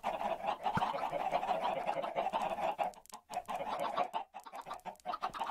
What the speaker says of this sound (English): And now you just spawn your chickens.